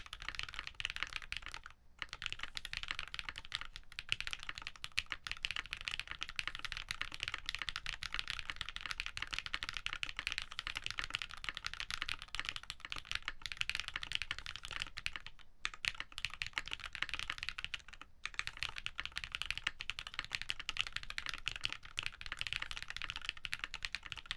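Continuous fast typing on a Midway60 mechanical keyboard with Techno Violet switches, a close, dense patter of keystrokes with a few short pauses, no voices.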